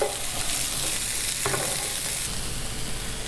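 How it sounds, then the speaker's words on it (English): Onions caramelizing in oil in a pan, a steady close sizzle with light stirring scrapes running throughout. "I'm going to go ahead and caramelize these for about 5 to 6 minutes."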